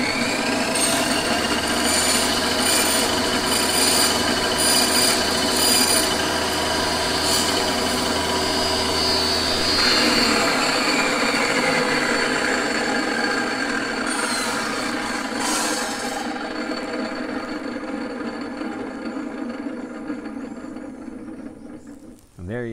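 A power saw cuts a notch into a deep well pump seal, a loud continuous grinding whine with a low hum that drops away partway through, then a thinner cutting sound that fades toward the end.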